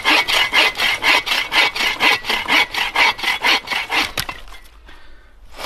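Hand saw cutting wood outdoors in a winter Canadian forest, with about a dozen rhythmic back-and-forth rasping strokes, close and loud, ending in a final crack as the piece breaks free before near silence.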